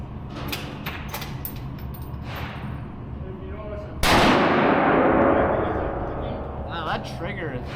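A CZ 600 Alpha bolt-action rifle chambered in .308 fires a single loud, sharp shot that rings out and decays over a couple of seconds, preceded by lighter handling clicks.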